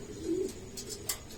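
A racing pigeon gives a brief low coo, close and soft, over faint background noise during a pigeon race.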